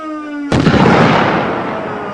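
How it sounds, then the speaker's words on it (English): A test bomb detonated at the Corps' counterterrorism research center in Mississippi: one sudden, very loud blast followed by a long rumbling roar that slowly fades. "they set off a bomb."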